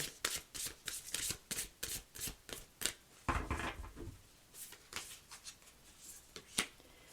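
Tarot cards from the Moonology deck are shuffled by hand in a quick series of crisp, riffling bursts, close and fairly quiet, with a short pause partway through.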